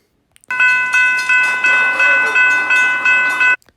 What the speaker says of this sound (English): there is a mechanical bell ringing in the background at the railroad crossing